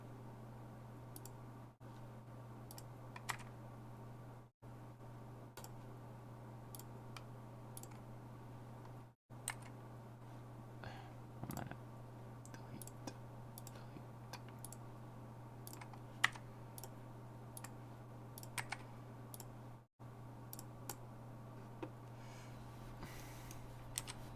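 Computer keyboard keys pressed during a PMDG 747 flight in Prepared3D, with scattered sharp clicks and short bursts of typing spread irregularly over a steady low hum.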